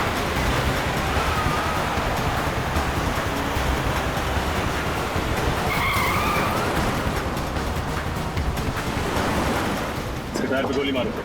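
A car races at speed with broad, continuous rumbling road and wind noise filling the whole stretch, plus a brief squealing tire skid midway and a scrape near the end, in a tense police-chase scene.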